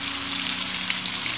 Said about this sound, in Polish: I taką wątróbkę smażymy z każdej strony po minucie.